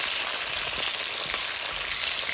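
Eggplant fries in hot oil as a dense, continuous crackling sizzle, close and steady, with no voices over it.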